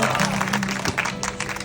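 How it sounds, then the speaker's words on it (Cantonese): Audience applause fills a Hong Kong cinema at a premiere screening of a local film, dense steady clapping from a crowd across the whole moment, with a little background voice mixed in. "俾啲掌聲自己先啦"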